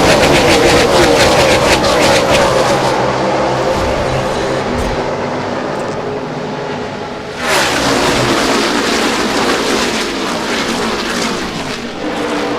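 NASCAR Cup cars roar at full throttle on a restart at Michigan in the 2012 Quicken Loans 400. The pack's engines blare loud and continuous, and a fresh surge of cars sweeps past partway through.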